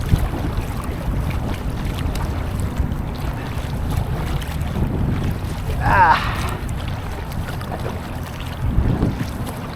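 Strong wind buffets a kayak on the water, making a constant low roar and microphone rumble with a gusty swell partway through.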